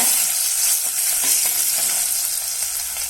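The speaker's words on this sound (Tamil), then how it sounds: "பூண்டு சேர்த்து வதக்குங்க" Garlic sautéing in hot oil with popped mustard seeds, a loud close frying sizzle with quick spatula stirring strokes over a few seconds, no talking.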